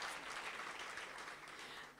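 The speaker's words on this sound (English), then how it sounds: "So can we give him a round of applause again?" Audience applause at an indoor event, a dense, steady wash of clapping throughout, fairly close and even in loudness with no talk over it.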